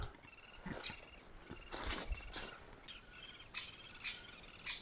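A woodpecker calls in a forest, giving scattered sharp calls and a few louder bursts at moderate distance over a quiet woodland background.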